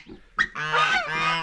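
Two Chinese geese honking close by, a short call followed by a loud, sustained run of harsh nasal honks, with no voices.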